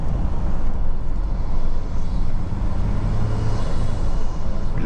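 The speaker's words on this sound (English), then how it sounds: "You've got a nice sound coming through that snorkel as well." Inside a 2024 Volkswagen Amarok V6 TDI, a steady, loud drivetrain rumble and road roar fill the cabin as the engine note drawn through the snorkel rises slightly, with a faint turbo whistle.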